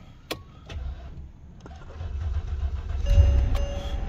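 A Mercedes-Benz S-Class W221 with a 5.5 engine starts up during dismantling: a sharp click, starter cranking, then the engine catches and settles into a rising idle rumble.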